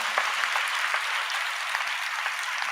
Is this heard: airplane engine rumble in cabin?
no